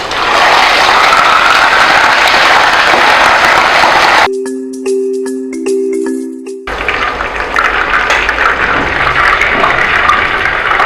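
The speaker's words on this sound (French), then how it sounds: "je vais commencer à déposer mes morceaux de poisson tout doucement pour faire frire" Pieces of fish fry in hot oil for a rice dish, giving a loud, steady broadband sizzle. Partway through, a short tonal hum cuts in and briefly replaces the sizzle, which then resumes.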